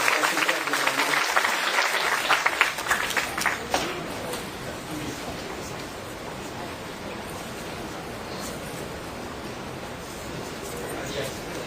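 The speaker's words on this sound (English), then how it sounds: "could I get a big round of applause for all our speakers?" Conference audience applauding the speakers at a sports law event, a dense burst of clapping that is loudest at first and then settles into a softer sustained patter.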